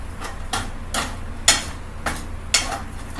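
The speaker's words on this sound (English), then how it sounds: "And then we're just going to mix her up a little bit." A utensil stirs chicken chilli in a non-stick frying pan on a stove, giving six sharp scraping knocks at roughly half-second intervals over a faint steady sizzle, close and with no talking.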